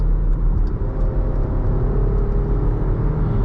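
A 2020 Jeep Grand Cherokee Upland on the highway accelerates to pass another car, its engine giving a steady low rumble and whir close up from the cabin, with road noise underneath and no talking.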